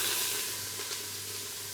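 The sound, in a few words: olive oil sizzling in a hot pan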